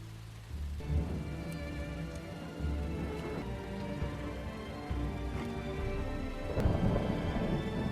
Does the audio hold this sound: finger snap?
no